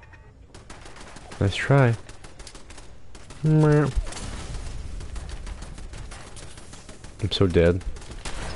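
Turret gunfire in Fallout 4: a rapid, clattering rattle of shots running steadily through the scene, with a voice speaking over it in short bursts.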